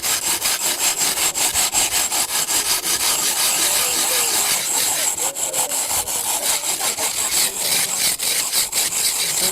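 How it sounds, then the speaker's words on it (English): A saw fitted with a carbide abrasive-grit blade cuts notches in soft brick, giving a steady, loud, close gritty rasping with rapid repeated strokes and no talking. "this carbide blade that has special abrasive grit that cuts bricks"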